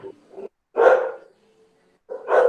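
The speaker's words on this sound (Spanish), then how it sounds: "el perro" A dog barks nearby during an online church class, heard through an open microphone as two loud, separate barks with short yips around them and silence between.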